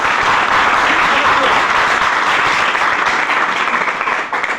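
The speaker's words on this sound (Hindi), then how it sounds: "एक बार ऐसा तो लोगों को ताली होना चाहिए जोर से" Loud, close, sustained audience applause at a business training session, dense clapping that holds steady and then starts to fade right at the end, with some voices mixed in.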